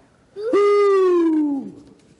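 A voice imitates an owl hooting in a children's story, giving one sustained, mournful 'who' that slides gently downward and is clear and close, alone with no talk over it.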